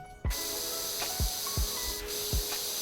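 Pressure washer spraying in PowerWash Simulator, a continuous loud hissing jet with short repeated thumps as the spray hits surfaces, no voices.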